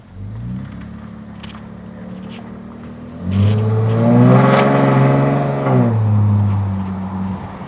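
A Jeep with a modified exhaust idles with a deep, steady burble, then revs up into a louder, raspier drone that holds for a few seconds before easing back down to idle.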